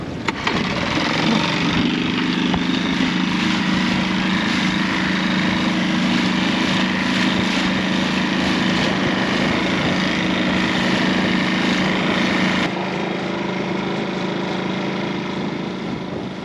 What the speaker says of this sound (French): Tout est prêt, le moteur tourne